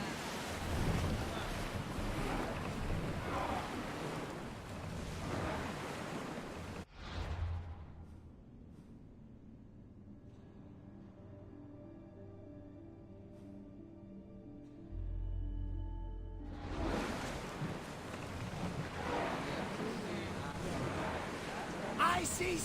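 A sailing ship crosses open sea in Assassin's Creed Odyssey, with waves and wind rushing loudly, dropping to a quiet stretch of soft tones midway before the surf swells back in.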